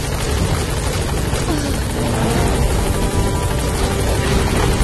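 A support helicopter arriving at a landing zone in Metal Gear Solid V, its loud, steady rotor thump and engine roar filling the scene without a break.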